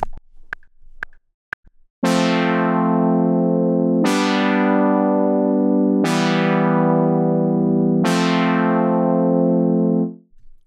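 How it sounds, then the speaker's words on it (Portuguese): Four sustained synthesizer chords, each struck every two seconds and left ringing steadily with a bright attack, preceded by a few soft clicks. "Esse é o som do sintetizador sem o S-Pulsar"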